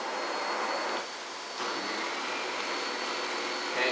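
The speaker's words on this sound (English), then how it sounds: "Now let me turn the brush roll on, which will make it a little bit noisier," A Miele vacuum cleaner runs steadily with its brush roll switched on, giving a loud, continuous whooshing motor drone that dips briefly in level before resuming its constant roar.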